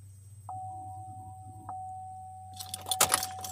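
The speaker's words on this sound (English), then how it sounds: "I definitely hear the fuel pump turning on." A car's electric fuel pump switches on as the ignition key is turned to the on position, giving a faint, steady whine with soft clicks at its start, followed by a brief jangle of keys near the end.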